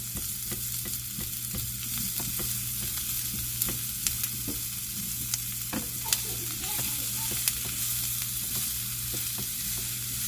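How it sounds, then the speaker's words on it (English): Sausage, potatoes, vegetables and seasoning frying in a pan over a medium flame, giving a steady hiss of sizzling. Scraping strokes and light clicks of stirring recur throughout. "So now you're mixing up your vegetables and your potatoes and your seasoning."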